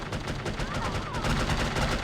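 Rapid gunfire in the video game No One Lives Forever comes as a dense burst of quick repeated shots at moderate level, with no pause between them.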